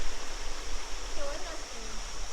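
Creek water flowing steadily where a sinking creek re-emerges from underground on a backpacking trail, a continuous close rushing hiss with no talk over it.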